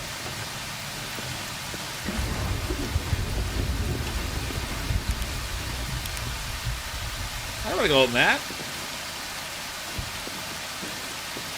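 Rain in the survival video game Prologue: Go Wayback! hisses as a steady wash that swells to a heavier downpour partway through, while someone speaks over it.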